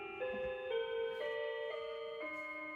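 A collected clock chimes a slow melodic sequence of clear bell tones, each note ringing and overlapping as the next strikes, steady and moderately loud with no talking.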